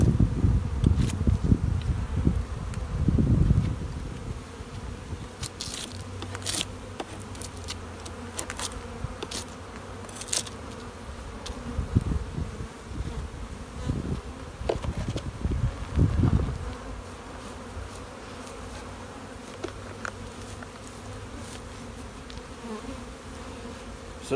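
Honeybees clustered in a hive give a continuous close buzzing hum, with occasional louder swells and scattered clicks of handling the hive.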